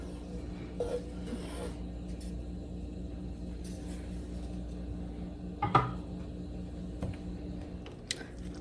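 A lid is set onto a pot of meatballs simmering on the stove: one clear clink of metal on the rim over a low, steady kitchen hum.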